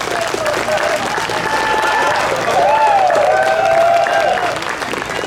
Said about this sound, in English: So another round of applause for Langley Concert Band